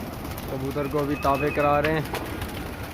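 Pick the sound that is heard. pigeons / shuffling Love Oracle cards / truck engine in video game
pigeons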